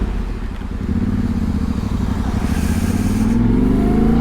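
A Yamaha T7 World Raid motorcycle ridden on a touring route, with a steady near engine drone that slowly climbs in pitch as the rider accelerates and wind noise runs underneath.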